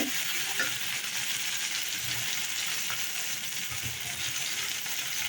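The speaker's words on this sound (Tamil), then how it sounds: "ரெண்டும் சேர்ந்து நல்லா வதங்கட்டும்." Tomato and onion sauté in a pan for a brinjal thokku with a constant, even frying hiss. Faint stirring taps sit underneath and no one speaks.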